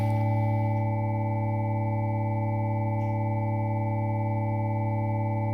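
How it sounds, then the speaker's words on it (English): A steady, sustained drone of pure sine tones stacked in harmony, unchanging and smooth with no rhythm, holding at an even moderate level throughout. "The drone that you're hearing now is the sine wave drone that accompanies this year's performance."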